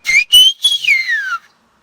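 A single person whistles a name in Spanish whistled language without using fingers: a few clear, loud rising and falling whistle notes close to the listener, then silence.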